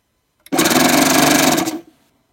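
The needle threader button on a Baby Lock Gloria serger runs as one steady mechanical whir lasting a little over a second, loud and close, then stops abruptly.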